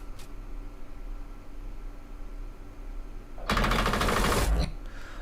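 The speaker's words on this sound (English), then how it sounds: "That is how gunfire will sound like in the distance." After quiet background hum, a single rapid burst of distant gunfire in a 3D animation rattles for about a second, then fades back to stillness.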